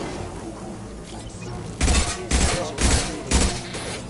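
Shotgun blasts in the Mass Effect video game, four loud booming shots spaced about half a second apart, ringing out over a continuous combat background.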